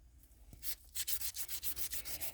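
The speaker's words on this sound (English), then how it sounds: "And the sandpaper is horrible." Sandpaper rubbing across a ceramic resin mold casting, a series of rapid rasping strokes that grow louder and steadier after a brief quiet start, close up with no voices.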